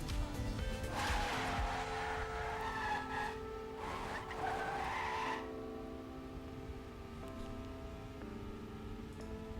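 Tires squeal and skid loudly in a racing video game, a harsh screech lasting a few seconds as a car loses grip on track, then fading into a steady engine drone and background hum.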